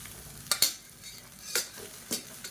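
Cooked basmati rice being stirred into spiced oil in a pot, with a few sharp scraping strokes and soft sizzling between them, close and moderately quiet.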